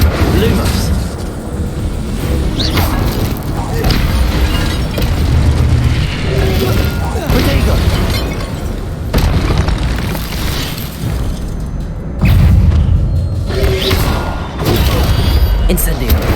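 Incendio fire spell cast repeatedly in Hogwarts Legacy, heard as loud bursts and whooshing booms over a constant game soundscape, with speech present throughout.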